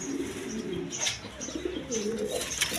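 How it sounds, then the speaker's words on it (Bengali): A pair of Chuachandan pigeons coo softly and continuously nearby, with low rolling calls and a few faint chirps over background noise. "এখানে এক পেয়ার কবুতর আছে চুয়াচন্দন কবুতর দেখেন"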